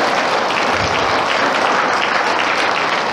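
Applause from the audience at a Lenten lecture in a Catholic church, a dense, loud burst of many hands clapping that holds steady throughout with no speech over it.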